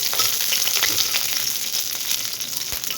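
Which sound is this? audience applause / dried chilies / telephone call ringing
dried chilies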